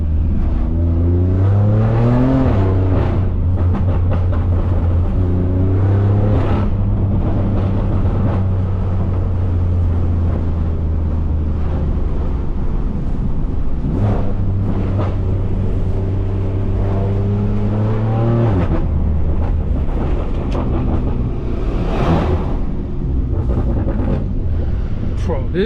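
Straight-piped BMW F80 M3 tuned to 650 horsepower, driven in sports mode, its loud exhaust rising and falling through repeated revs and gear changes with steady drone and wind noise, voices talking over it.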